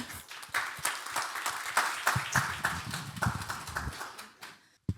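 Scattered clapping from a symposium audience in a hall, with distinct separate claps in a loose, uneven rhythm that die out abruptly near the end.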